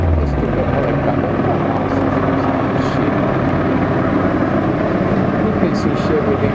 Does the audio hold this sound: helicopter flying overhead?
yes